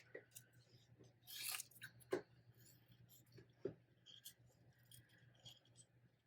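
Scissors snipping through paper as small stamped lily pad images are cut apart for a tee pee fold card, a few quiet crisp snips with light rustling and faint clinks, close by and with no one talking.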